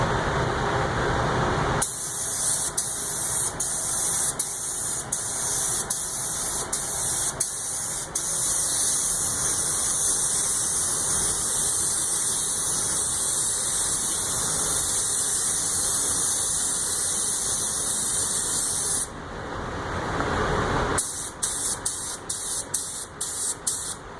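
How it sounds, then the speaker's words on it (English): A paint spray gun hisses in long steady bursts while coating a car part, a loud continuous spray broken by short clicks as the trigger is released and pressed again. "you're going to come up here and you're going to spray it"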